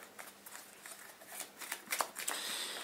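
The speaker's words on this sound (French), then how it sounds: "je vais en remélanger une par joueur dans le deck de rencontre" Playing cards being shuffled by hand into an encounter deck for a card game, a close, quiet series of riffling flutters that build toward a denser burst at the end.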